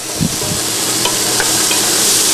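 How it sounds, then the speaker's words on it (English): A fresh tomato is rolled around in a pot of boiling water, giving a steady, loud bubbling and hissing wash with a few faint clinks near the start. "just roll it around in the boiling water for a little bit"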